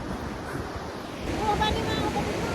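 Rushing roar of Takakaw Falls, a waterfall in British Columbia, a steady broadband wash of falling water and spray that swells louder halfway through, with wind buffeting the microphone.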